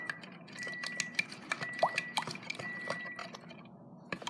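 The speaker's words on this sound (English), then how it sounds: "I'm just going to be adding in the activator, which is my borax solution" A borax solution activator is dripped and poured into a small batch of slime in a container. Soft, irregular wet drips and light clinks come close and faint, with no voices.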